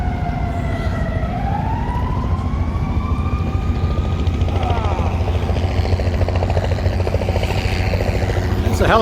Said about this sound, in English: It's a helicopter, look at this.